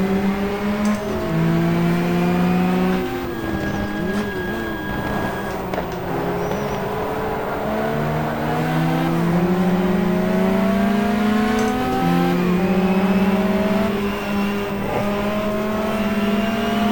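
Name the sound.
race cars on track in the racing game GTR2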